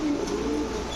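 A dun-coloured male Danish pigeon with a long giraffe-like neck coos in low, throaty warbles, close and fairly loud over a steady background hiss.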